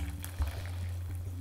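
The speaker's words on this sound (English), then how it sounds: "I'm just gonna slowly pour my tea over the strainer into another pot" Homemade yogi tea is poured slowly through a strainer into another pot, a soft continuous trickle and splash of liquid heard up close beneath a low background hum.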